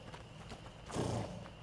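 A horse in the video game A Plague Tale: Innocence, with soft clip-clopping hooves and a brief snort or whinny midway, faint and close in a quiet night scene.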